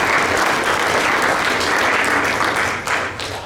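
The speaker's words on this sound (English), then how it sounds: "So I would like for us to give Coach a round of applause." Audience applause for a coach at a development camp, a dense, steady roar of many hands clapping together that runs throughout and tapers slightly toward the end.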